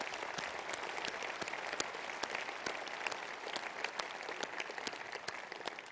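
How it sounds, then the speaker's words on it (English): A Conservative Party Conference 2015 audience applauds steadily in a large hall, a dense, fairly distant patter of many hands with sharp individual claps throughout. "Please give them a big round of applause."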